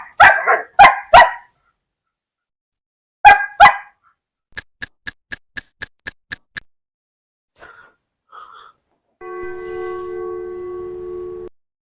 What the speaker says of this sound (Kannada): ಇವನು ಒಳಗಡೆ ಹೋಗ್ತಿದ್ದಂಗೆ ನಾಯಿ ಬೇರೆ ಬಗಳು ಸ್ಟಾರ್ಟ್ ಆಯ್ತು.